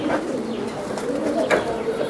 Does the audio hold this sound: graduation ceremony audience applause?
no